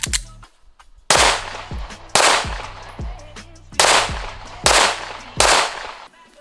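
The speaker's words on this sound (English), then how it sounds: "So now we're gonna go on this side of the target and use the Staccato C." Loud pistol shots from a compact Staccato C fired at an outdoor target range, five sharp reports in a quick uneven string with ringing decay, after a faint earlier bang.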